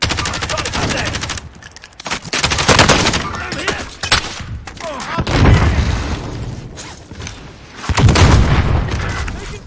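Bursts of automatic gunfire and booming shots from a Call of Duty Modern Warfare battle royale match, loud and repeated in clustered volleys with short lulls, with players talking in between.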